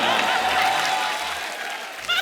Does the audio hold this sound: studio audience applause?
yes